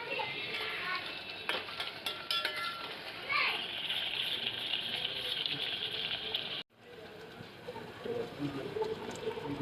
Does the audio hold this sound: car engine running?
no